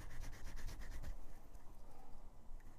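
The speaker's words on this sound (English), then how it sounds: "All we're going to do is scrub this down." A Matchbox Superfast diecast toy car being scrubbed clean during restoration, rapid brisk rubbing strokes for about a second, then softer, slower scraping, close and fairly quiet.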